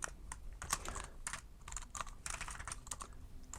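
Steady, fairly quiet typing on a computer keyboard while writing code for a LeetCode problem, with a quick, continuous patter of key clicks and no talk.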